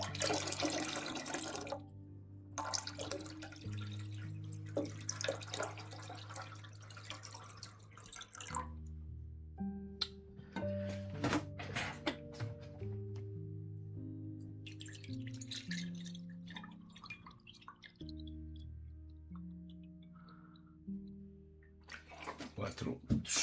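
Water pours and trickles into an ultrasonic vinyl record cleaning tank in bursts, liter by liter, with drips between pours, fairly faint, while someone talks throughout.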